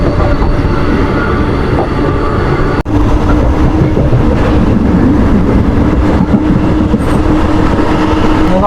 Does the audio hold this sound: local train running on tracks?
yes